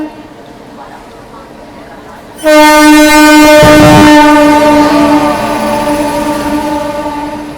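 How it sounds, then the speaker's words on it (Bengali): A WP7 locomotive on the Howrah–Bandel line blares its horn close by, a sudden loud, sustained multi-tone blast that starts partway through and holds for several seconds over rolling train noise. "হ্যাঁ, হংকিং দেখো, হংকিংটা কিন্তু মারাত্মক লেভেলের। WP7 engine."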